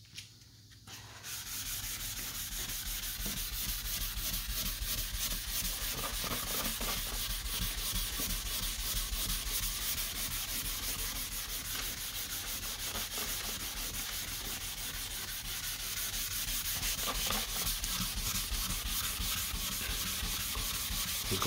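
Continuous rhythmic scrubbing of wet sandpaper on a stick rubbing back and forth over 2K primer along a car body line, steady and close, with no talking.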